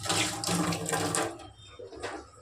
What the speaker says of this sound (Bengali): হাতটা ধুয়ে নি ভালো করে